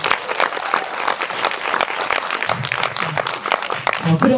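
Audience applause fills a cinema hall at a film screening Q&A in Lotte Cinema World Tower, a dense steady clapping from many hands, loud and continuous throughout with no speech over it.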